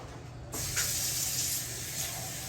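Bottled water pours into a coffee mug, a sudden steady splashing hiss that starts abruptly and runs on evenly at close range, with no voices.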